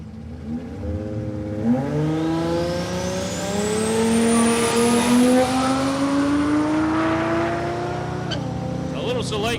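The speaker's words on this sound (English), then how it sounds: "You'll hear him start to bring the boost up on the start line shortly." A drag car engine revs and builds boost on the start line at Palmyra Raceway, its pitch rising steadily before dropping off near the end, loud and close, with a commentator's voice underneath.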